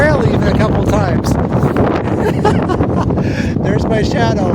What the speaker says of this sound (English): It's windy. I don't know if you can tell, but I've been blown off the trail even a couple times.